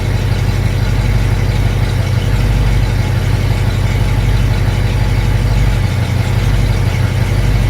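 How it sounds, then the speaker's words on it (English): A V8 engine in a Scout idles through a Walker SoundFX universal muffler, a steady, close, deep exhaust rumble with an even low pulse and no talking. "Just the right amount of exhaust noise for me."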